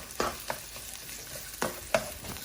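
Sliced onion sizzling in a Cantonese-style vegetable stir fry, a steady soft hiss broken by a few sharp stirring clatters of the spatula, close and moderately loud with no talking.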